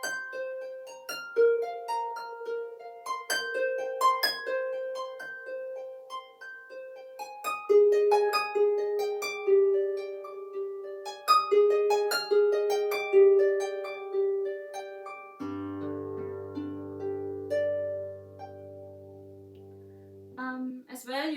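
A lever harp plucks a series of bright, high notes in flowing patterns, ending with sustained lower chords, played alone and softly.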